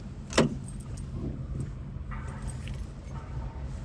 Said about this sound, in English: Oh yeah, I got the key in the ignition.